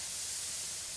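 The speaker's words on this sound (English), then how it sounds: "Get ready to listen to this sizzle." Steak sizzles on a mesquite coal grill, giving a steady, loud, broadband hiss that holds unbroken through the whole short moment with no voices.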